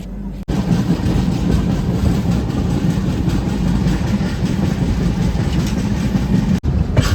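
The Humsafar Special passenger train (number 20923, Tirunelveli to Gandhidham) rumbles at Ratnagiri station with a steady, loud low drone of wheels and engine, constant and close throughout, and faint voices in the background.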